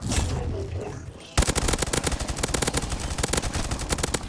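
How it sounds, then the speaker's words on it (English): Dense automatic gunfire in a Simpsons-themed Call of Duty zombie mod, a quieter stretch giving way after about a second to loud, rapid continuous bursts that keep going to the end. "Actually, I'm gonna shoot them in their belly so I get 1 point."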